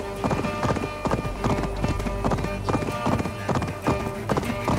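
Horse hooves clip-clop in a steady galloping rhythm as a rider travels in Assassin's Creed Valhalla, close and clear with no talking over them.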